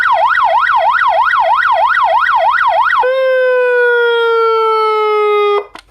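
A 12 V 30 W three-button toa horn siren sounds its second tone: a loud warbling wail that switches abruptly to a steady descending tone before cutting off, heard alone and close.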